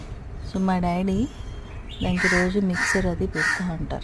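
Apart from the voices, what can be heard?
crow cawing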